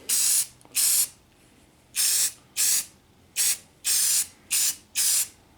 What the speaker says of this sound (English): when I'm done spraying this primer, there won't be a line on the cabinet